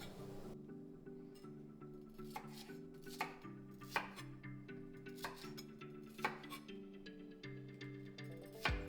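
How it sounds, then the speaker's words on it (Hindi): A knife chops layered onion into squares on a board for kadhai paneer, with about half a dozen sharp, separate cuts at an uneven pace over steady background music. "अब हम इसे स्क्वायर्स में काटेंगे."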